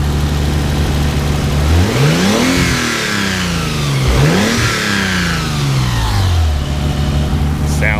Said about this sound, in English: my VG30E was kind of noisy to begin with